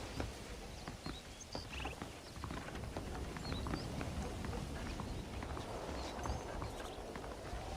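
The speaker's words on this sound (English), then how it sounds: "The horses are saddled up over here." Horses walk with steady clip-clop hooves in a Red Dead Redemption game scene, a soft continuous clatter under an ambient outdoor bed, with no talking.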